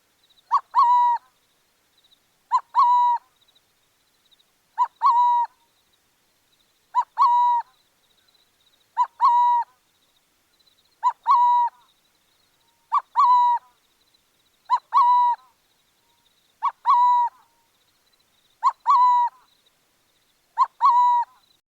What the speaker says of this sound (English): The burrowing owl.